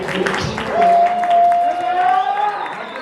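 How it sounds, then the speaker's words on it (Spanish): Audience applause at a rock history book presentation in Oaxaca, clapping mixed with crowd murmur and a sustained whistle or tonal cheer rising above it, fairly loud and continuous. "Por favor, un aplauso para Gama y este trabajo."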